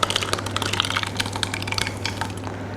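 Wet ingredients for banana chocolate chip oatmeal muffins are poured into a bowl of dry mix, a soft, close liquid gurgle and splatter with a low hum underneath.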